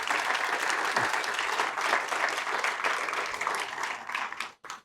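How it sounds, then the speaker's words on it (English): Applause from a luncheon audience, a dense steady roar of many hands clapping that holds for several seconds, then thins and breaks off near the end. "please give them a round of applause"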